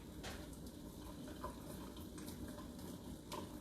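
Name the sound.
straining cooked potatoes, water pouring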